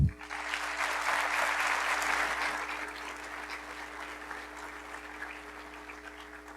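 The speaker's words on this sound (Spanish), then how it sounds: "Un aplauso." An audience at a leadership lecture applauds to welcome a guest speaker, a sustained dense wash of clapping that starts strong and slowly fades, heard from the room with a hum underneath.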